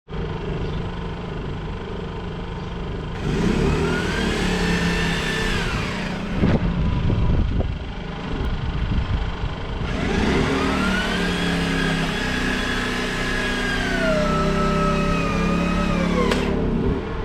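An Anbull portable electric winch hoist strains under load, a steady loud motor whine rising in pitch in two long pulls with rattling and clunks between them, no talking.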